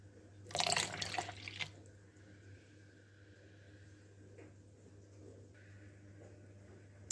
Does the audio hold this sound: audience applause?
no